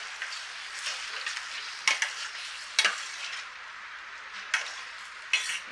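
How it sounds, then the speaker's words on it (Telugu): Mutton curry being stirred in a pot with onions, a steady sizzling scrape of the spoon broken by several sharper clanks against the metal, close and alone. "ఇప్పుడు కర్రీని ఈ విధంగా కలుపుకోవాలి"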